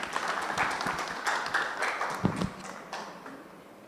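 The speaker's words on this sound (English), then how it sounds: "A big round of applause, please." Scattered applause in a conference hall, a modest audience at a cloud and data centre event in New Delhi clapping in uneven bursts that gradually thin out and fade toward the end.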